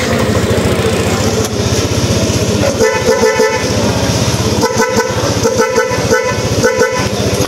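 A cheap aftermarket car horn bought online is tested over an idling engine, giving several short loud honks in quick bursts, some doubled, against a steady motor rumble with no talk.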